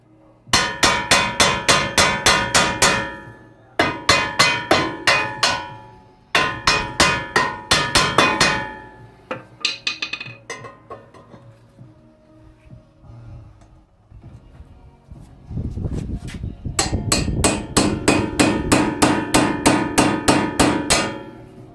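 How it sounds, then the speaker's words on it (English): Repeated hammer blows on the upper ball joint of a 1991 Acura Integra LS front suspension, loud metallic strikes in fast bursts of several hits with short pauses between, ringing clearly and close up with no talk. "Go ahead while I'm at it and break this upper ball joint loose"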